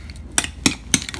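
Three distinct metallic clinks of a spoon striking a glass cup while stirring an Italian shrimp cocktail, spaced about a quarter second apart over a quiet background.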